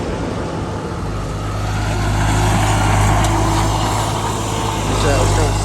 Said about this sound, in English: Roads in need of some gravel, so we come over here with the skid steer, kind of grade it.